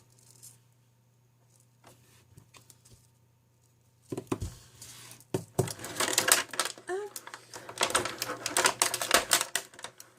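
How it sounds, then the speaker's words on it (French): Crinkly plastic packaging rustles in bursts close by, crackling and scrunching after a quieter stretch of faint handling noises. "Désolée si je fais du bruit, c'est du plastique."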